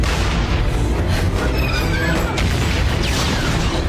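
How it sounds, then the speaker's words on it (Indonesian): Warship cannons pound an island in a dramatic action scene, with heavy booms and crashing impacts layered over a continuous loud roar; dense, chaotic bombardment with no talk over it. "Meriam kapal perang langsung menghujani pulau tersebut."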